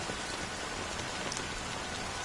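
Steady rain falls in the video game Honkai Star Rail, a dense, even hiss of drops running unbroken and fairly soft throughout, with no voices.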